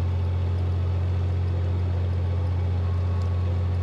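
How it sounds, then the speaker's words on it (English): A narrowboat engine chugs loud and steady right below the cruiser deck, a constant low throb with an even rhythm and no pauses, heard alone. "the engine is bang below your feet. So it's quite loud."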